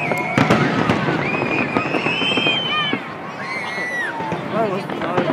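Fireworks burst in rapid, uneven volleys of sharp crackling bangs, with whistling rockets rising between them, while nearby people chatter and exclaim throughout.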